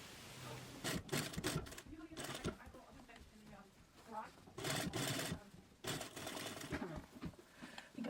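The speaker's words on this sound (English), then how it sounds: "Now I'm going to top stitch along here, really close to the edge." A home sewing machine top stitches close to the edge of fabric in bursts of motor whirring and needle clatter, separated by short pauses, with quieter handling sounds in between.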